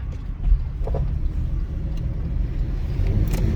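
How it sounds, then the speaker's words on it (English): A Chevy Impala driving after a junkyard transmission control module swap, its low engine and road rumble heard from inside the cabin, steady and close with a slight swell near the end. "here I am driving that Impala after the junkyard"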